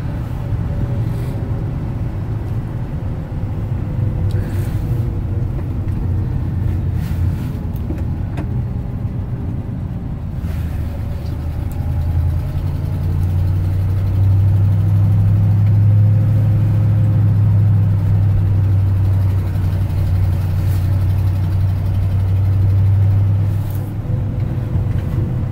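A Ford F100 Ranger pickup truck cruising along a two-lane country blacktop over the mountains, its engine a steady low drone with road rumble that swells into a stronger, louder hum partway through, with no talking.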